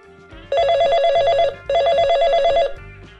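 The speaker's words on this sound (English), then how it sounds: "I have a phone call." A telephone rings loudly and close by, two long electronic trilling rings separated by a short pause, over a soft background music bed.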